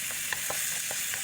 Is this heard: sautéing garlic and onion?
yes